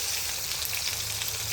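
Prawns fry in very hot mustard oil in a wok, giving a close, continuous crackling sizzle with no talk over it.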